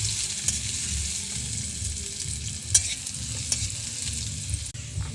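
Onion and garlic sizzle steadily in a pan while a utensil stirs, scraping and tapping now and then, one sharper knock midway; close and moderately quiet, with no voices.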